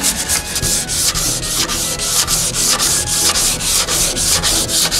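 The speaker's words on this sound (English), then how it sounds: "Sanding area!" Steady, continuous abrasive sanding inside a van, with a rhythmic back-and-forth rasp, close and loud, with no voices.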